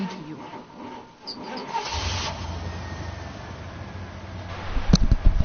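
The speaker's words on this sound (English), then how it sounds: "We made the car running" A car engine cranking and catching in the video game Life is Strange: Before the Storm, a rising mechanical churn that settles into a low idle rumble, ending in a few louder revs.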